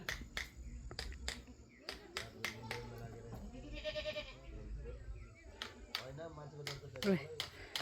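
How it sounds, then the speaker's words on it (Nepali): Goats bleat several times amid a busy outdoor village scene beside a goat pen holding about thirty goats, with people talking nearby and sharp snapping or clicking sounds scattered throughout. "यहाँ चाहिँ हाम्रो दाइहरूको बाख्रा छ"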